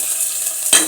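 Oil sizzles in a pan while potato sambar is cooked, with onions browning, giving a steady high hiss that brightens into a louder burst of frying near the end.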